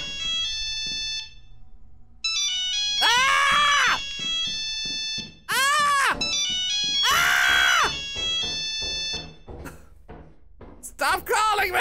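A Nokia mobile phone ringtone plays as an item in the video game Lethal Company, loud and piercing, in bursts of bright electronic tones, with a voice shouting in between.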